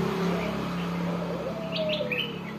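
Caged doves sunbathing outdoors, tekukur, perkutut and puter, give soft cooing calls with a few brief higher chirps from nearby birds over a low steady background hum.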